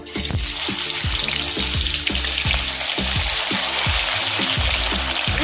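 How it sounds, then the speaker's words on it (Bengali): Bhola fish fries in hot oil in a wok, a loud, steady, close sizzle and crackle that runs without a break, with some low rhythmic thumps underneath. "তেলটা গরম হয়ে গেছে আমি মাছগুলো দিয়ে দেবো"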